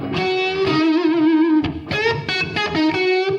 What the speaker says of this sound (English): I've got a very close room bluesy type reverb on it